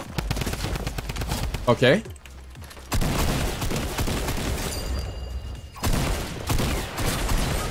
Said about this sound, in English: Let's just use the drum gun.